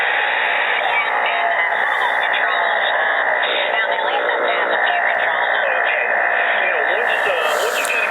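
Static and hum from a ham radio receiver on its main antenna, a band-limited crackling noise floor with faint warbling tones and murmured signals running continuously and fairly loud.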